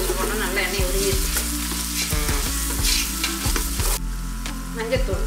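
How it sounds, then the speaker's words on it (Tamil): Ginger garlic paste fries in hot melted oil with a constant close sizzle, broken by repeated scraping clicks of a spoon stirring the pan. "இஞ்சி பூண்டு பேஸ்ட் போடணும், நல்லா எண்ணெய் உருகிடுச்சு"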